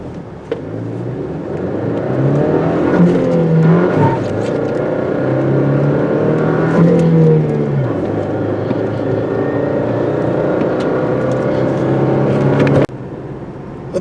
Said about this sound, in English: Let's do a 0 to 60 run.